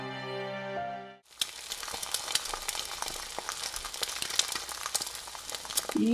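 Food frying and sizzling in a pan during cooking in a Bengali fairy-tale cartoon, a steady close crackle with scattered pops that starts after a short musical tone and continues alone.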